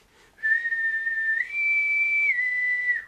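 A person whistles an imitation of a naval boatswain's call, alone and clear: a steady high note that steps up higher midway, holds, then drops back briefly before ending, about two and a half seconds long.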